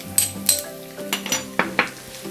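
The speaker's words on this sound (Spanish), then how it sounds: "una vez calentito el aceite, vamos a agregar el ajito" Garlic going into hot extra virgin olive oil in a pan, with a light sizzle under several sharp metallic clinks and scrapes of a utensil against the pan, close and fairly loud, no voices.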